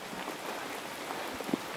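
Soft, steady rain hisses faintly and evenly for a moment, with no voices present.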